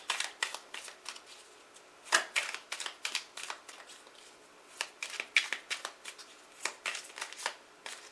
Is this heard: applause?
no